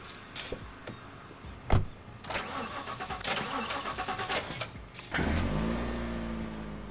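A car engine in The Last Stand: Aftermath starts with a sharp thump, then runs and revs through a steady, moderately loud drive that swells into a fuller, louder roar near the end, with no talk over it.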